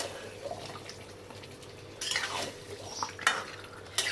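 Mutton stirred and fried in a pot, soft sizzling with scraping spoon strokes and a few sharp clinks of utensil against metal, quiet and without talk.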